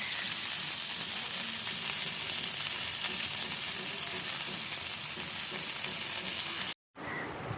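Pieces of shark fish frying in a pan, a steady close sizzle that keeps on evenly for several seconds before a brief cut, then returns faintly.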